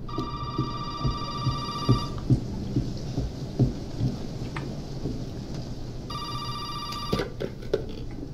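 A telephone rings in Resident Evil 7 in two bursts, one at the start and a shorter one near the end. The ringing sits over a steady bed of rain and rumbling thunder.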